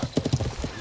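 Horse hooves clip-clopping in a quick uneven rhythm with a brief neigh, close by, in the medieval combat video game Life is Feudal.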